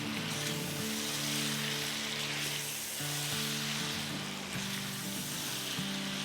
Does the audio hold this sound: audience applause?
no